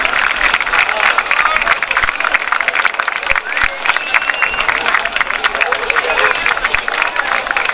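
Sustained applause and clapping from an outdoor crowd at a Sunday festival after the national flag is honoured, dense and steady throughout with a murmur of voices mixed in.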